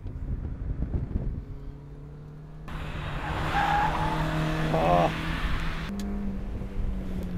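A small orange car with little power is driven flat out through a corner on a circuit, its engine droning steadily as tyres squeal and scrub, with a louder, rougher stretch mid-corner; wind buffets the microphone throughout.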